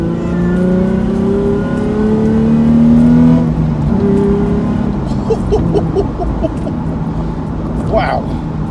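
A Nissan 350Z engine revs and accelerates hard with rising and falling pitch, loud inside the car, while people talk over it.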